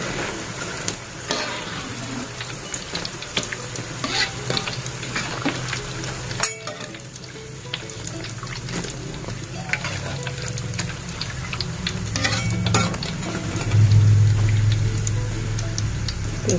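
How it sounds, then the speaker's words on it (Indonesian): Tahu brontak, stuffed tofu, frying in hot oil, a steady loud sizzle and crackle throughout, with occasional stirring clinks and a voice speaking briefly. "Kita goreng selanjutnya ya sampai habis."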